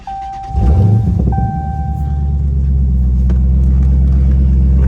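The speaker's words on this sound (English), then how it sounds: "And so I'm gonna go ahead and get this car started for you." A 2017 Dodge Challenger R/T Scat Pack cranks with a short starter whine, fires up with a loud rumbling surge, then settles into a deep, steady, close idle with no speech.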